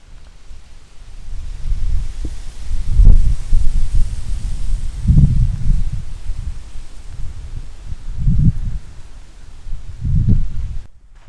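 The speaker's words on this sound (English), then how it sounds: "The wind picked up." Gusts of wind outdoors by Theorosa's Bridge in Valley Center, Kansas, heard as deep, rumbling buffets that swell and fade several times, with a faint rustle beneath.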